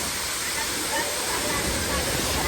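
The Dhangar waterfall near Badlapur roars steadily in the monsoon, a loud, dense rush of water filling the whole clip without letup.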